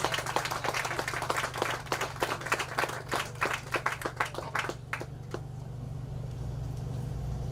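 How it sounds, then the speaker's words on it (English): An audience applauds at a civic event launching a residential street sweeping program. Scattered claps ring out for about five seconds, then thin and stop, leaving a steady low hum from the room. "would you all give him a round of applause?"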